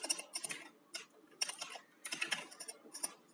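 Computer keyboard typing in quick irregular bursts of crisp, close key clicks with short pauses, and no voices.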